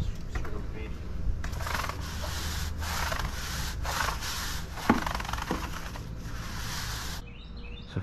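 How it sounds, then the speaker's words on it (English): A patio surface scrubbed with sealer stripper, a steady close rasping scrub with brief pauses between strokes and a soft voice faintly in the background. "I start scrubbing that thing."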